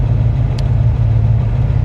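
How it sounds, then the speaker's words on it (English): Chevrolet Camaro Z28 with a six-speed, about 197,000 miles and a misfire and lifter noise, idling with a steady, loud, low rumble and a faint ticking texture throughout. "Misfire and lifter noise."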